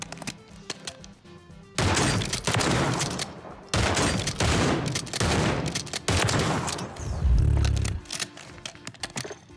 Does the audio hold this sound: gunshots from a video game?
yes